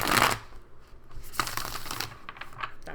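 Close, crisp riffling of a tarot card deck, a quick burst followed by a second longer stretch of shuffling and soft flicking of cards.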